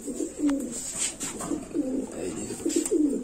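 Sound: Doshok pigeons cooing

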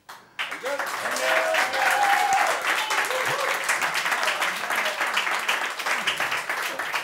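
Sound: audience applause

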